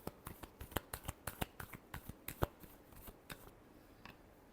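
A deck of tarot cards is shuffled by hand up close, a run of sharp riffling snaps in a steady rhythm that thins out and fades toward the end.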